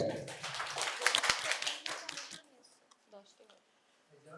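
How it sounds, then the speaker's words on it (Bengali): An audience at a medical college quiz competition claps loudly for a prize giving, a dense burst of applause that fades after about two seconds, followed by faint talk. "জোরে হাততালি।"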